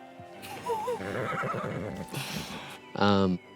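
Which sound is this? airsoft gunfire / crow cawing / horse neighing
horse neighing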